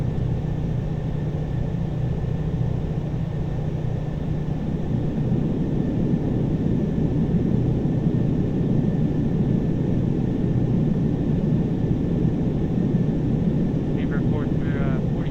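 Boeing 747-400 climbing after takeoff in a home flight simulator, a continuous loud engine roar and rumble lasting throughout under occasional talk, with a faint clicking near the end.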